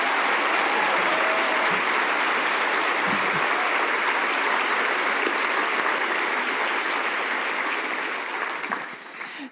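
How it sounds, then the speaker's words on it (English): A large audience of several hundred claps for student athletes at a school event, a dense, continuous wash of applause that holds strong for several seconds before gradually thinning and tapering off near the end. "why don't we give these student athletes another round of applause."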